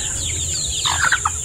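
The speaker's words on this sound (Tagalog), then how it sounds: "Yan, marami-rami rin tandang." Roosters at a gamefowl farm give short clucks and a clipped crowing call near the end of a brief stretch of steady background hiss, fairly close and not loud.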